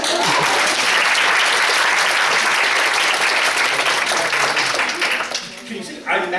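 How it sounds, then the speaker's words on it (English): A roomful of about a hundred workshop attendees claps loudly and densely for several seconds, the applause tapering near the end as a voice begins to speak. "give them a clap"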